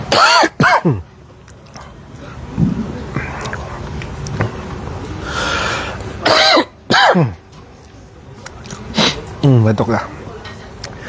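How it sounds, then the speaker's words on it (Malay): A person coughs and clears their throat several times in short bursts, close to the microphone, with quiet rustling between. "Batuk dah."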